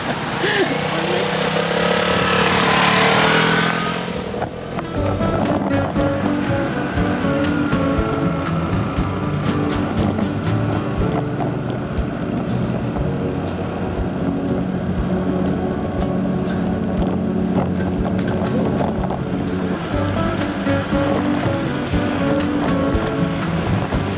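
Vespa Primavera 125 Disney Mickey Mouse Edition scooter ridden with a GoPro clamped to the mirror, a steady engine drone with heavy wind buffeting that runs continuously and loudly.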